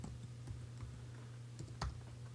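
Typing on a computer keyboard while searching for a font in Cricut Design Space, a run of light, irregular key taps up close over a low steady hum, one firmer tap near the end.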